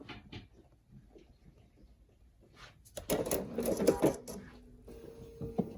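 A Bernina 770QE sewing machine running its automatic thread cutter after finishing a backstitched seam: a quiet pause, then a short whirring, clicking mechanical burst up close that settles into a low motor hum.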